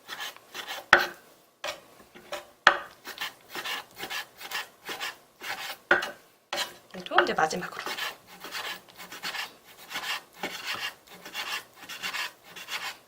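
A kitchen knife slices beef into pieces on a wooden cutting board, rhythmic rasping strokes repeating at a steady pace close by, with a brief bit of talk partway through.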